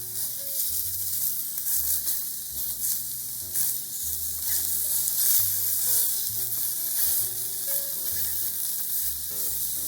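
Salmon frying in a pan, a steady close sizzle with spitting oil, continuing throughout with low clinks and scraping underneath and no voices.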